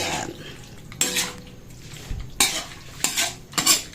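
Chicken is stirred in a pan, giving several sharp scraping bursts of a utensil against the metal over a low background sizzle, with short quiet gaps between strokes.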